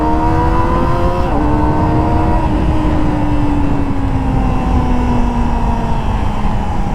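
A 2024 Kawasaki ZX-25R SE with a 250cc engine, revving to a loud high-pitched whine that drops slightly after a shift and then holds a steady sustained tone as the bike rides on, close and loud.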